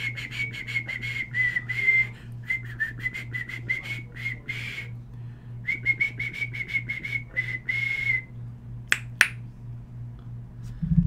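A person whistles a tune in repeated short phrases, clear and close, over a steady low hum with occasional clicks, and no speech.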